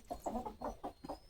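Hen and rooster clucking close by in a series of five short, throaty bursts with brief gaps between them, with no talking over the calls.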